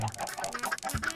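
Chickens clucking in the Minecraft video game, a run of short, quick clucks repeating steadily at moderate volume across the whole moment, with a faint voice low in the background.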